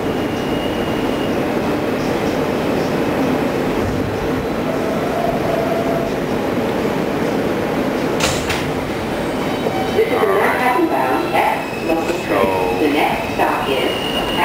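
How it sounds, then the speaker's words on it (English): A subway train rumbles steadily along the tracks, a loud continuous roar with rattling, and metallic squeals and clicks rising toward the end. "So you see that these trains are just running efficiently."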